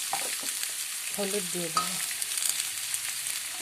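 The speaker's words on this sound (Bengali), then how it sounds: "এগুলোকে ভালো করে ভেজে নেব।" Potatoes with salt and turmeric fry in a pan, a steady broadband sizzle that holds throughout, with a voice speaking briefly over it.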